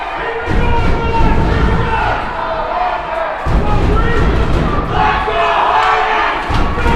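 Rival youth hockey crowds at a Prior Lake versus Edina peewee game cheer loudly in a dense, continuous roar, surging in waves with shouts and thumps over the noisy rink.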